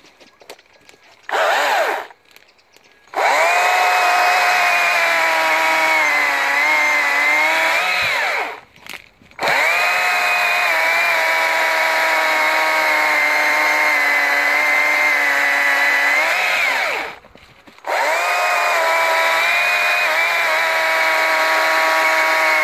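A battery-powered STIHL electric chainsaw cuts through logs with a loud, steady high motor whine, running in long stretches broken by a few short pauses.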